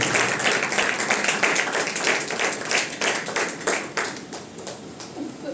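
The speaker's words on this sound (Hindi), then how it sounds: "ताली बजाकर यीशु का कोटि कोटि धन्यवाद।" A church congregation at a Lent service claps hands in thanks, a dense, rapid, continuous patter of many hands that gradually softens.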